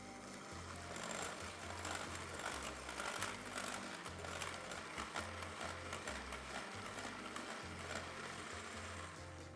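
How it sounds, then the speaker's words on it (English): An electric mixer whisks sugar and egg together for Oreo cookie batter, giving a steady, continuous motor whir with a droning low hum that shifts slightly in pitch throughout. "I'm using an electric mixer to do this because it's quicker and easier"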